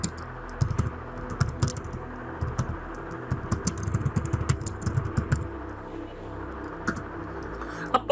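Close, rapid clatter of computer keys as a code comment is typed into a C++ program, quick irregular bursts of clicks with brief pauses, no talking.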